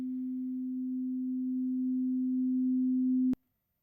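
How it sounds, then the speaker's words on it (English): Steady pure sine test tone at 250 hertz, presented as middle C, holding a constant pitch for over three seconds before cutting off abruptly with a faint click, alone and clear. "I'm going to play that middle C at 250 hertz"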